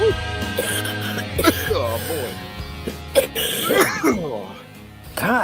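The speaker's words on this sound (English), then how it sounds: "He's coughing with his girl" Several rough coughing and throat-clearing bursts break out between voiced sounds, close and fairly loud, with a voice mixed in throughout.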